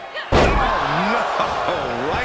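An elbow drop lands with a single loud slam in the wrestling video game WWE 2K23 during a handicap match, followed by crowd noise and a commentator talking over it.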